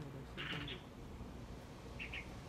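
A light-vented bulbul parent and fledgling call back and forth outdoors, giving two short bright bursts of chirps spaced apart over faint steady background noise.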